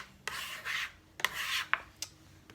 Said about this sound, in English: For things like this, the bench scraper is really great.